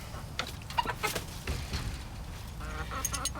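Chickens cluck and chatter around a coop door near a watering setup, several birds calling at once, some close and some farther off, with steady background noise throughout.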